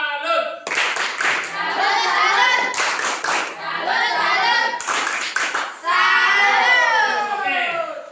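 A classroom of children performs a rhythmic clapping routine, with sharp bursts of hand claps separating stretches of loud, chanted group voices.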